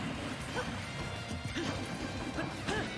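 Palutena's down smash in Super Smash Bros. Ultimate lands as a sharp crashing hit amid busy game effects, with a few quick impacts in a row.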